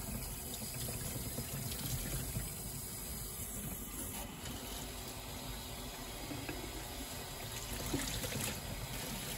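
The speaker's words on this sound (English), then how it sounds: "So I'm using water to help lift it." Running water rinses a heat pump tumble dryer filter in a steady, faint hiss and trickle that continues without break and with no talking.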